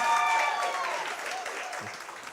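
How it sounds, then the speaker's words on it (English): Audience applause at a business market opportunities workshop and expo, a dense wash of clapping that starts loud and slowly thins over a couple of seconds, with a voice briefly heard over it. "can we please give a round of applause"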